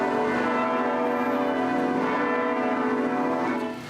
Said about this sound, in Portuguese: Os 61 sinos da Catedral da Sé têm hora certa para tocar.